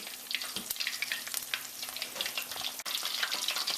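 Shrimp pholourie, Caribbean fried dough balls with shrimp, bubble in hot oil with a constant close crackling sizzle and scattered pops, one brief dip partway through, no voices.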